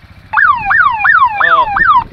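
A police siren wails in rapid, repeated rising-and-falling whoops, loud and close, for about two seconds at a gathering of quads and scooters.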